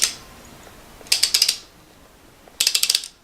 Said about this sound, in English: So then we just insert the torque wrench right here, and we start rotating